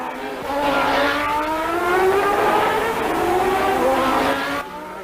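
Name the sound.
Formula One race cars at US Grand Prix Phoenix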